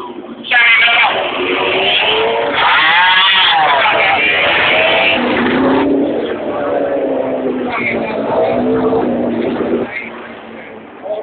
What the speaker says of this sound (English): Some of the real sounds here from the days of the Grand Prix racing.